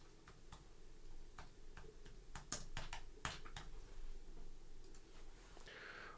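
Quick bursts of computer keyboard typing, sharp clicky keystrokes in short irregular clusters, close and fairly quiet over a steady background hiss.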